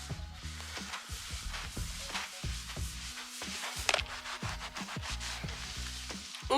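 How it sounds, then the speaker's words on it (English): Bondo body filler being sanded by hand on a Fox-body Mustang makes a run of quick, rhythmic rasping strokes, close and fairly quiet, with a brief sharper knock midway. "So let's go ahead and get started sanding."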